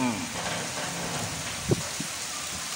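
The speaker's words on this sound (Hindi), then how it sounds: "बारिश शुरू है जी।" Steady heavy rain hisses continuously in Dera Ghazi Khan, a dense wash of noise with a single soft thump partway through.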